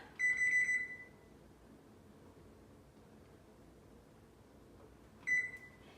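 An oven timer beeps in a home kitchen: a quick burst of high electronic beeps, then quiet hum, then another short beep a few seconds later, close and clear.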